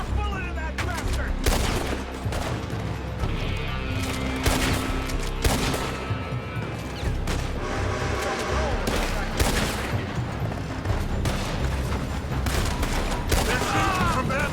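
Rapid gunfire from a Red Dead Redemption 2 shootout rattles through the whole stretch in dense, overlapping volleys and heavy shots, with voices speaking in between the bursts.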